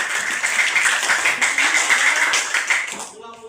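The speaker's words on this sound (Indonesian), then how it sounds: "Tolong berikan tepuk tangan dulu semuanya" A class of students clapping hands together in a Hindu religious education lesson, a dense burst of many hands lasting about three seconds before stopping abruptly, with faint speech afterward.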